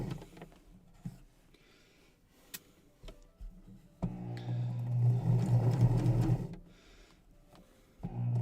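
A sewing machine runs a quarter-inch seam through fabric, quiet ticks and taps first, then a steady loud whirring stitch burst for a couple of seconds before stopping and briefly starting again.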